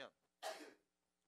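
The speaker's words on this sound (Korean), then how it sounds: "누가 기침소리를 이렇게 내나." A single short, sharp cough bursts out after a brief breathy sound, close and fairly loud, during a quiet pause in a math lecture.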